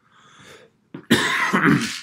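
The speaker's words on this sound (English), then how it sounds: "There's that little cough coming." A soft throat-clearing sound followed by a short, harsh cough burst, close and fairly loud, with a brief pause before it.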